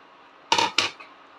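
A lid set down on a pan of rohu fish cooking in a Bengali poppy-seed dish gives two sharp, close metallic clanks in quick succession, then a faint ring fades out with no talk.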